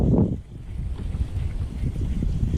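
Low, blustery wind rumbles across the microphone, gusting strongly at first and then settling into an unsteady whoosh.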